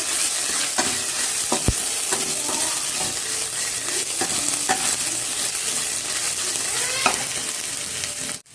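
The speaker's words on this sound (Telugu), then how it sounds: "ఇప్పుడు అల్లం వెల్లుల్లి జీలకర్ర కలిపిన పేస్ట్ అది పచ్చివాసన పోయేంత వరకు కొంచెం ఫ్రై చేసుకుంటాం." Ginger, garlic and cumin paste sizzling steadily in a hot pan, with occasional scraping and stirring clicks throughout and no voices.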